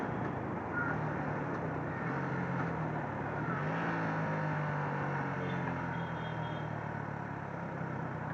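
A motorcycle slows under engine braking with a downshift, its engine note steady and close, a low drone that shifts pitch midway with no speech over it.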